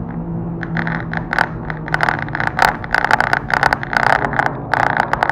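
Loud, close exhaust of a Honda Civic Type R burbling and crackling in rapid pops and revs, the exhaust sitting just behind the rear windows and open to the trunk, a throaty rasp filling the cabin.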